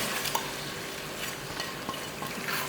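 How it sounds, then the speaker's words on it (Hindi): Chicken is stirred into pasta in a pan, giving a steady close sizzle with soft scraping and light clinks from the utensil against the pan throughout. "अब इसके अंदर हम चिकन डाल देंगे अपना।"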